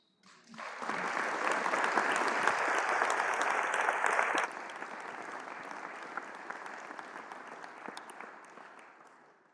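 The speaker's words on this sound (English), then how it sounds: "we are asking you to give them a round of applause" A congregation at a Sunday church service applauds dancers, rising quickly into sustained clapping that eases to a softer, lighter level midway and tapers off; the applause sounds somewhat distant.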